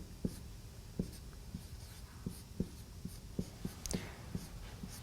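A pen writes a logic clause by hand, with soft scratchy strokes and regular light taps on the surface, close and quiet, and no speech over it.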